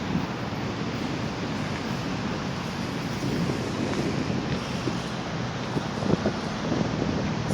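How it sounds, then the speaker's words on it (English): Big ocean waves on a beach: steady broadband surf roar with constant wind noise on the microphone, continuous and fairly loud throughout, no talking. "So pretty big waves today."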